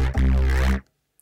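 A single sustained note from a Logic Alchemy synth patch called After the Snow, played dry without delay, bright and gritty at the top, holding for under a second before stopping abruptly into silence.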